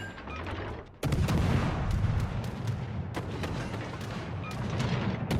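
Naval gunfire in World of Warships: Legends erupts as loud, dense salvos and rolling booms after a brief quiet opening, continuing in repeated bursts.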